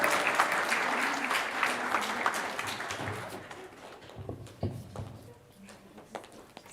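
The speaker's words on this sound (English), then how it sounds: "Can we have a round of applause for our adjudicators?" An audience at a primary school speech contest at Redwood Academy claps for the adjudicators, dense applause that is loud at first and then thins into scattered claps before fading out.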